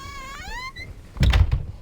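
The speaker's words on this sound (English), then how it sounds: "Here, I'll open the door for you." A door opening in the video game Home: Episode 1, a rising squeaky creak followed by a solid thunk and a short rattle, close and clear.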